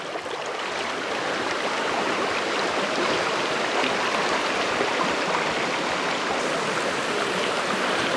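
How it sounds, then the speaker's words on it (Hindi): A swollen river rushes steadily through dense jungle during monsoon rain, a loud, continuous broadband roar with no pauses and no voices. "ये पता नहीं कौन सी नदी है"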